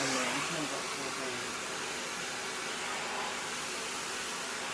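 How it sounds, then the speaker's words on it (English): A hair dryer fitted with a diffuser runs on its medium setting, giving a steady, loud, close rushing blow that holds even throughout with no pauses and no talking. "I'm going to do the diffuser because I don't want my hair to be too flat. So I'm going to do mid blow."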